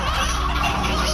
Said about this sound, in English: one stony hen and two other hens